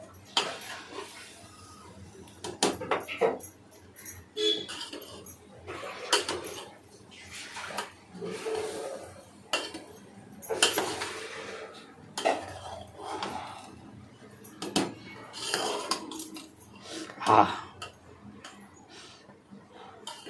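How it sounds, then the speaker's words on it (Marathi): Egg biryani being stirred in a cooking pot at home, with repeated clinks and scrapes of a utensil against the pot at moderate volume through a quiet room. "सो आता बिर्याणी थोडी वरतून ढवळून घेते घरगुती बिर्याणी आहे त्यामुळे ढवळून घेतो आहोत"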